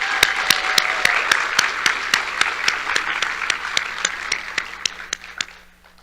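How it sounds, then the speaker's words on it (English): An audience gives a round of applause at the Miss and Junior Miss Cherokee competition, a sustained wash of crowd clapping with one nearby clapper beating a steady rhythm, fading out at the end. "Let's give them all one more round of applause"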